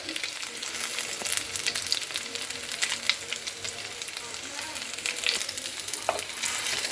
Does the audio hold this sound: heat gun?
no